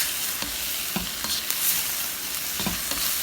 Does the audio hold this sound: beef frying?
yes